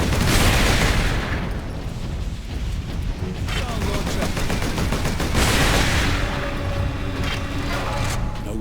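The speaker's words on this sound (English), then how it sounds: "Sentry guns ahead." Sentry guns in Warhammer 40,000: Space Marine fire in a dense, sustained rattle, loud and continuous, with heavy mechanical booms and rumbling underneath and no pause in the barrage.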